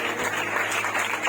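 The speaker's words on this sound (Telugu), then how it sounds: "గట్టిగా చప్పట్లు కొడుతూ" A church congregation claps loudly during a sermon, producing a dense, steady wash of many hands that lasts about a second and a half with no voices on top.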